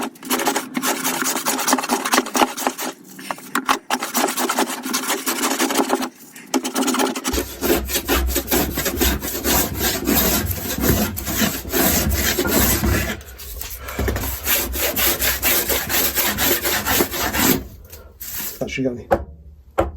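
A wooden guitar top, cut at about 5 mm, is worked down toward 3 mm thickness with continuous rough rasping and scraping strokes, close and loud, with brief pauses and a lower machine-like hum joining partway through.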